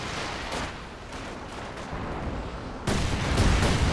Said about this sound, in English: Another flame barrage on it.